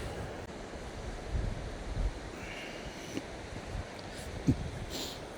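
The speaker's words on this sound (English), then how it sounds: "As I say, it is really windy today." Steady, loud wind roars across an open microphone on a coastal path at Mablethorpe, with a broad rushing noise and occasional gusts and bumps, no voices.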